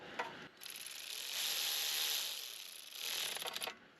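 A small wheel bearing retaining bolt on a 2009-2017 Audi Q5 is snugged down, giving a dense, steady ratcheting buzz that runs for several seconds, close and fairly loud, with no talking.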